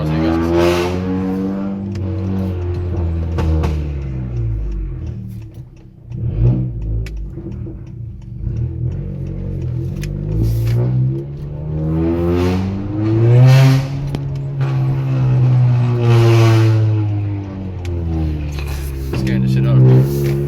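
A new Honda Accord pulls hard, its engine note rising through repeated climbs and gear changes, loud and close from inside the cabin, with voices talking over it.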